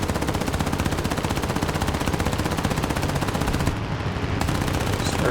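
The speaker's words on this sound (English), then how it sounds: "Start to burn up the guns." Machine guns of a Ki-27 fighter plane firing in War Thunder, a continuous loud rapid rattle that runs unbroken for several seconds over the drone of the aircraft engine.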